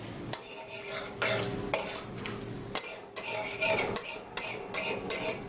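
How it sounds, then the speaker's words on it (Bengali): Bay leaf, cinnamon bits and whole cumin frying on low heat in oil in a kadai, a soft sizzle overlaid by repeated metal spoon scrapes and clinks against the pan. "কম আঁচে মিনিট খানেকের জন্য এই ফোড়নটা আমাদের ভেজে নিতে হবে"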